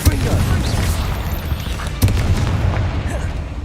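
A Confringo blasting spell in Hogwarts Legacy goes off amid busy combat, a booming burst standing out around the middle over a constant rumble of fighting noise.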